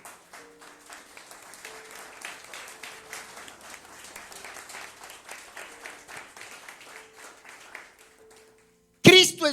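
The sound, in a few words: applause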